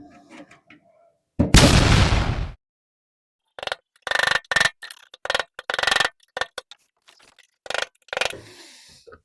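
A punch being hammered to spin off the gas tank lock ring on a kei truck: one long harsh scrape, then bursts of sharp metallic strikes in uneven clusters, close and loud with silent gaps between.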